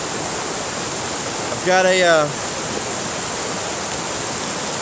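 A creek flows steadily around someone standing midstream with a tripod, a constant broadband rush of water close by, with a brief spoken phrase over it partway through.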